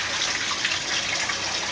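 Clean water streams steadily through a narrow black hose back into a CNC machine, a continuous even hiss and splash of flowing liquid with no pauses.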